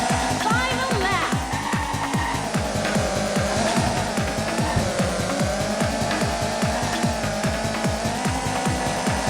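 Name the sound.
car racing video game engine and tire sounds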